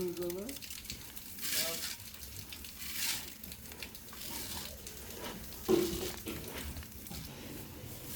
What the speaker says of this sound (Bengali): আজকে 5টা চুলায় ধান সিদ্ধ করার কাজ চলতেছে